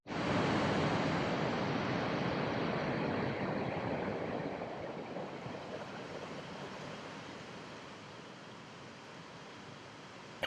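Waterfalls along a hiking track pour with a steady broadband rush that is loud at first, then eases slightly and continues evenly to the end, with no voices.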